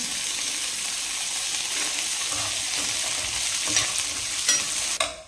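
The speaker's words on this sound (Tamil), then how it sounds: "ரெண்டும் சேர்ந்து ப்ரௌன் கலர் ஆகிற வரைக்கும் நம்ம இதை வறுக்க போகிறோம்" Coconut and shallots frying in a pan while being stirred, a steady close sizzle with scraping spoon clicks near the end, for Sundakkai chutney.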